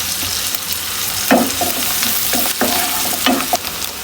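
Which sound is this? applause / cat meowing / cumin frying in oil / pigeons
cumin frying in oil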